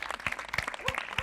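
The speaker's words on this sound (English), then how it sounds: "Round of applause." A theatre audience applauds after a talk, with a short burst of clapping mixed with voices.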